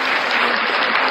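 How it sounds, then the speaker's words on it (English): Brief burst of clapping applause, fairly loud and steady throughout, with no voices over it. "Clap for me, I clap for you."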